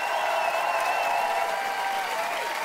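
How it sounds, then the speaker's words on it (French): A concert audience at a family singing final applauds the band, a steady dense wash of clapping sustained throughout at moderate level, with a faint tonal hum above it. "Et les familles seront accompagnées par un groupe extraordinaire que je vous demande d'applaudir chaleureusement"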